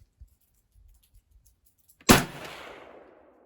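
A single loud, close 300 Blackout rifle shot loaded with 19 grains of powder behind a Sierra 110-grain bullet, a sharp crack followed by a long decaying echo, with faint handling noises beforehand.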